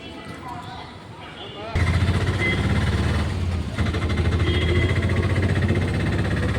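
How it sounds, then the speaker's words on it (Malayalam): An auto rickshaw engine starts and then idles with a loud, steady chugging rattle close by, with voices faintly underneath. "ഞാൻ ഓട്ടോ പിടിച്ചു"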